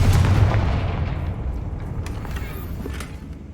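A spell blast in Hogwarts Legacy, the fire and explosion spells, lands as one heavy close boom at the start, then rumbles and slowly fades over a few seconds.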